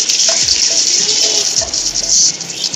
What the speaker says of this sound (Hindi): अब इसमें हम प्याज डालेंगे जो हमने बारीक काट लिए थे।